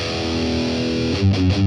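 An electric guitar played through a BOSS Katana MK2 amp, dialed for a metal tone with boosted low growl, rings a heavily distorted sustained chord, then shifts into thick, punchy lower notes.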